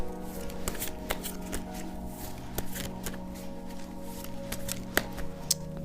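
A deck of tarot cards is shuffled by hand nearby, giving a steady papery rustle punctuated by sharp flicks and snaps at irregular intervals.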